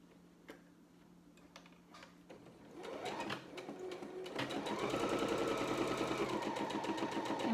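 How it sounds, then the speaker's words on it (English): A sewing machine stitches the box corner seams of a tote bag, starting with scattered clicks, then building into a fast, steady whirring run that grows louder toward the end. "I'm going to sew this really quick and show you."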